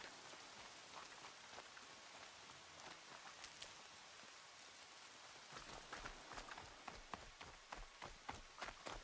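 Steady rain falls in the game Horizon Zero Dawn Remastered, a continuous broadband hiss with scattered sharper drop impacts that grow denser and more pronounced toward the end, with no talk over it.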